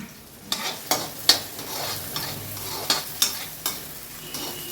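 Onions frying in a pan on the way to golden brown, with a constant close sizzle and regular clacks of a spatula stirring, no one speaking.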